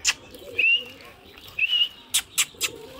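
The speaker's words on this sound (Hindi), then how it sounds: "ये दाना खिलाने से कबूतर बहुत सही रहते हैं" Pigeons coo and chirp while being fed mixed grain, with soft repeated calls close by and a few sharp bright chirps near the end, no talk over them.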